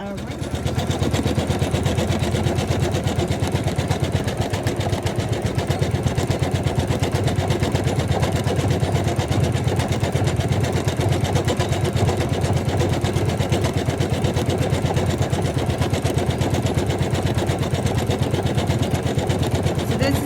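Close and loud, a sewing machine stitches with a colour thread and a metallic thread together, its rapid mechanical hammering steady and unbroken for twenty seconds.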